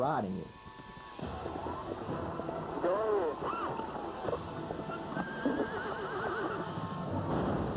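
A horse whinnies several times amid hoofbeats and outdoor noise, with people talking faintly in the background.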